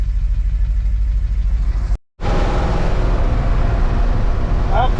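A 1965 Ford car hauler driving down the open road, a loud steady engine drone with road rumble that cuts out briefly and then resumes at full strength.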